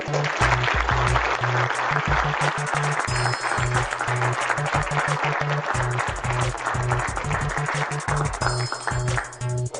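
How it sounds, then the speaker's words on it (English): Lecture audience clapping for a speaker, loud sustained applause filling the whole stretch with dense overlapping claps and faint tonal sounds behind it. "Everybody, clap your hands for Runoko Rashidi."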